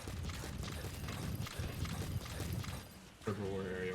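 Rapid clip-clop of a donkey's hooves trotting in Metal Gear Solid V, steady and busy over a low rumble, with a voice speaking over it and a brief animal-like call near the end.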